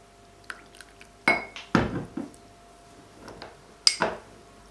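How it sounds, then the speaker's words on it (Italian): Cold cherry juice stirred into cornstarch, heard as a few separate clinks and scrapes of a utensil against a bowl, with a couple of louder knocks in between and quiet gaps, close by and with no voices. "Verso il succo freddo nell'amido di mais e mescolo bene per far sciogliere i grumi"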